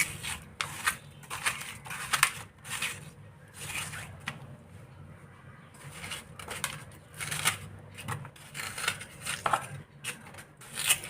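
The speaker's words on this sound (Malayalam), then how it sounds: "ഞാൻ പാത്രത്തിലേക്ക് ചെറുതായിട്ട് കട്ട് ചെയ്തിട്ട് വെക്കുന്നുണ്ട്" A knife chops watermelon into small pieces on a board, a quick run of crisp, close cuts coming in uneven bursts with short pauses between them.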